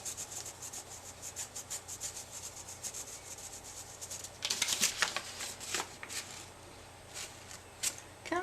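A square being rubbed onto paper for a clear gesso test, close scratchy back-and-forth rubbing strokes in a quick uneven rhythm that grow louder and denser midway.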